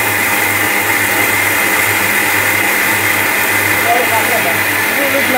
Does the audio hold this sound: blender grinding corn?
yes